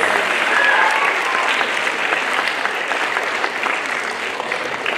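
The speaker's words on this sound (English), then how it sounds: "clap for yourselves for being a good audience" A school audience at a junior high school play in Nairobi applauds itself, a dense, steady wash of many hands clapping that carries at an even level through the whole stretch, with no talk.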